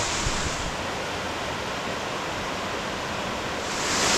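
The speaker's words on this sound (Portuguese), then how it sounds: "onde você encontra essa queda d'água aqui, ó" A waterfall on the Purificação trail in Chapada Diamantina, near the first fall before the main cascade, gives a steady, loud, broadband roar of rushing water that runs unbroken throughout with no voices.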